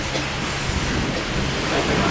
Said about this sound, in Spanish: se soltó la lluvia